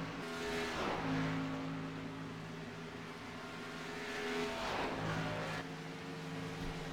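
Race cars lapping the Auto Club track in a racing league, their engines a steady droning whine that swells twice as cars sweep past, one near 1 second and another around 4.5 seconds. No voices.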